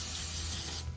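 Carb cleaner sprays from an aerosol can onto a Mikuni VM26 carburetor in one short, steady hiss that cuts off abruptly near the end.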